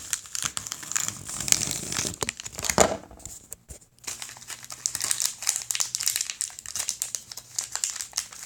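Crinkly product packaging for custom-made electronics is cut open and unwrapped nearby, giving loud irregular crumpling and crackling with tearing bursts, a short lull in the middle, and no talking.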